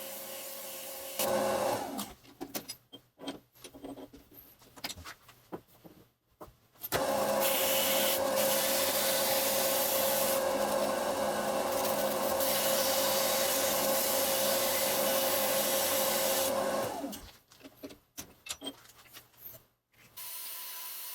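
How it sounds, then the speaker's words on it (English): A 9x20 bench lathe turns a steel round while its surface rust is cleaned off, giving a steady, fairly quiet whirring rub for about ten seconds, with shorter scraping and handling noises before and after. "I've chucked up that piece of steel round in my 9x20 bench lathe, and I'm just cleaning off all the surface rust"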